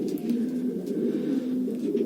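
Female pigeons in a loft give a steady, low cooing that runs continuously throughout, close and moderately loud with no talking.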